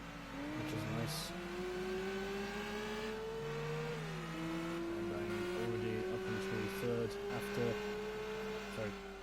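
A race car engine in Gran Turismo 2 on the Grand Valley circuit drones at high revs, pitch climbing steadily, dipping at a gear change and climbing again, with a commentator talking over it.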